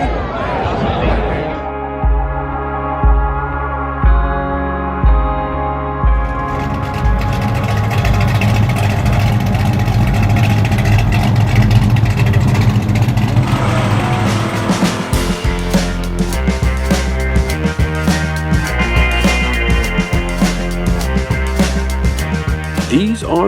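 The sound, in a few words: Mopar muscle car engines idling and revving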